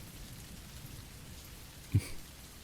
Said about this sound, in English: somewhere other than a cold phone booth in the rain